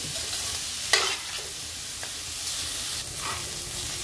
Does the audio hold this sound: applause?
no